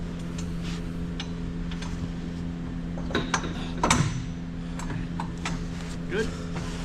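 A wrench clicks while breaking loose a stubborn bolt during removal of a cylinder. A few sparse, faint clicks and ticks come through under ongoing conversation and background hum.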